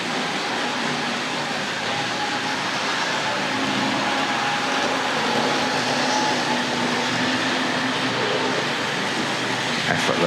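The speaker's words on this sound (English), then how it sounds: "Diesel locomotive's about to come round" Tri-ang model diesel locomotive on a small-scale layout, running through a station with a steady, continuous whirring rumble that holds at an even level throughout, with no pauses or breaks.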